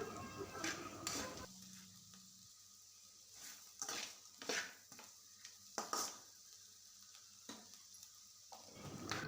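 A spoon clinks and scrapes in a pan while chili powder is stirred into frying broad beans for an Andhra-style stir-fry, giving short, faint, irregular metallic taps and scrapes over a quiet sizzle.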